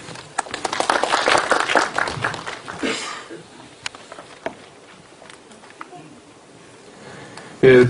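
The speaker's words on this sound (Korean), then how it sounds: "박수를 좀." Brief applause for a speaker at a cloud computing conference, loud patter of clapping in the first few seconds that fades out, followed by quieter room noise and a sudden close knock at the end.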